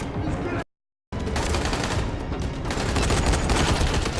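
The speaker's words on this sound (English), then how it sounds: "I got shot at point blank range" Rapid automatic gunfire in the zombie game Dying Light, loud and close, rattling in a dense stream that cuts out abruptly for half a second and then resumes without pause.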